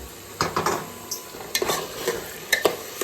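A spoon stirs khichdi cooking in a pot in a village kitchen, giving irregular scraping knocks against the metal over a soft, steady sizzle.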